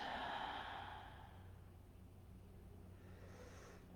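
A single soft yoga exhale, a gentle airy breath out that is strongest at the start and tapers away into quiet room tone.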